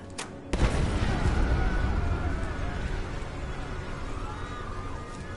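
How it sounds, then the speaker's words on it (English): A store blowing up in the video game Deus Ex: Mankind Divided, a sudden loud boom followed by a long rumbling, crackling decay that fades slowly over several seconds. "The Stanek store blew up."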